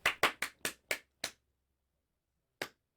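A few quick hand claps from a lone person in a radio play, six sharp claps in a rapid run that stops abruptly, then one more isolated clap after a pause.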